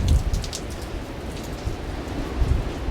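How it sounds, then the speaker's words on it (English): Steady rain falls in Porthcawl, a continuous close hiss of drops on surfaces with a couple of soft low thumps, no voices present. "The rain has arrived,"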